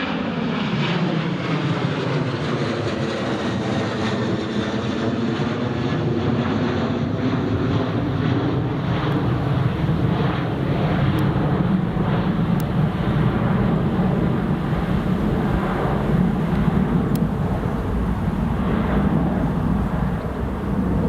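A Sun Express Boeing 737-800 airliner takes off and climbs out of Newcastle Airport. Its jet engines make a loud, steady roar that lasts throughout, with wind buffeting the microphone and no talking.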